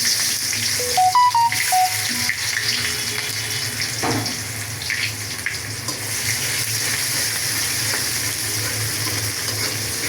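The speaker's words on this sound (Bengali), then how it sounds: "তেল গরম হয়ে গেছে, দিয়ে দিলাম গরম মশলা, তেজপাতা, দিয়ে দিলাম পেঁয়াজ কুচি" Garam masala, bay leaves and chopped onion sizzle in hot oil with a steady, close hiss and a few brief clinks of a utensil against the pan.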